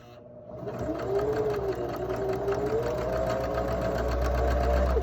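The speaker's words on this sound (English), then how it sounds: "I'm going to sew all the way down to the next mark" A sewing machine stitches a seam on a fabric face mask, a fast steady whirring drone that starts after a short pause and runs close and loud without a break.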